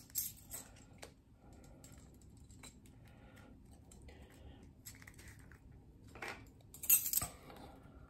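Soft metallic clinks of a teaspoon scooping dry ground mustard while preparing a cheese soufflé, a few faint taps and scrapes close by in a quiet kitchen.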